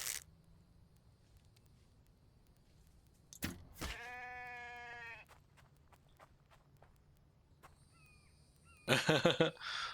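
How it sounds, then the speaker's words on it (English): A sheep bleats once in the video game The Infected, a wavering cry rising from a quiet background, with a few clatters before it and a loud rustling burst near the end. "The sheep sounded a lot closer."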